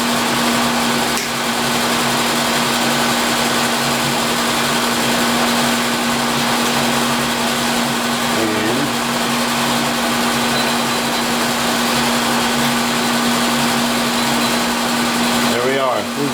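A gear-cutting machine works the final tooth of a gear with a steady, loud, continuous whirring drone and a constant hum, broken by a brief change near the middle and a louder burst at the end.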